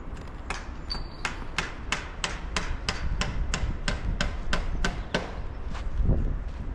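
Steady hammering from building renovation near a bell tower, about fifteen sharp metallic strikes in an even rhythm, ringing out over a constant low background rumble with no talking.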